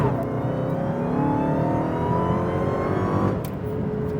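Dodge Charger SRT Hellcat rolling on from about 25 mph, its engine note rising steadily in a sustained, loud acceleration heard from inside the car, with no talking.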